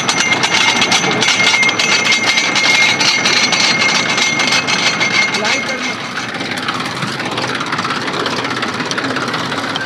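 A tractor engine runs steadily on a roadside, a dense rumbling drone that holds for the whole stretch and eases slightly toward the end, with voices faintly underneath.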